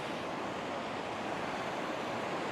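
A mountain creek swollen with spring snowmelt runoff on a Colorado high-country trail near Taylor Pass rushes as a steady, dense broadband roar, constant and unbroken with no voices.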